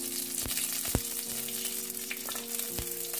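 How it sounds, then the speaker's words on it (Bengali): Black mustard seeds, curry leaves and chili fry in hot oil for a vegetarian poha, making a continuous sizzle broken by a few sharp pops and crackles, with a low steady hum underneath and no talking. "এরপরে এটাকে ভালো করে নেড়ে ভালো করে ভেজে নিতে হবে"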